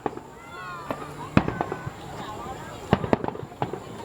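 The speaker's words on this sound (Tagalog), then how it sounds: "Fireworks sa SM din." Fireworks burst during the Dinagyang festival, a string of sharp pops and cracks at irregular intervals with crackling in between, while people talk and exclaim nearby throughout.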